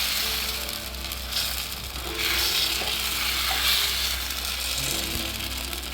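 Cucumber dosa batter spreads across a hot pan with a steady sizzling hiss that swells and fades as it is poured and spread, over a low constant background hum; no talking.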